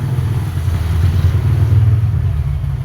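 Freshly refreshed Honda XR200 motorcycle engine idling steadily, with a loud, close, continuous low throb and faint mechanical clatter, no voices over it.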